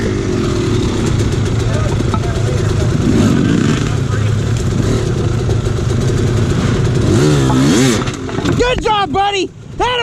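Dirt bike climbing a steep hill at a hard enduro event, engine revving loudly and steadily near the microphone with chattering throttle, easing off toward the end while someone talks over it.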